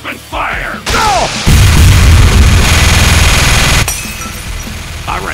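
Loud, dense gunfire and explosions from a Team Fortress 2 battle staged in Garry's Mod, with rapid bursts and booms filling most of the stretch, starting and ending near quieter moments with brief voices.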